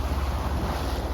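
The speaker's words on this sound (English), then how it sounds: "So we've got the engine on and we're motor sailing." Yacht motor sailing with its engine running toward Rathlin Island, a steady low engine rumble under rushing wind and sea wash from fairly big rolling waves, continuous and fairly loud.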